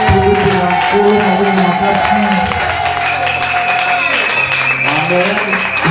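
A church congregation claps in continuous, dense applause, with singing voices carrying over the top throughout.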